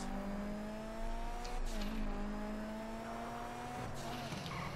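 A car engine in GTA V holds a steady, droning pitch as it accelerates, with faint tire noise and brief bumps, heard alone at moderate volume.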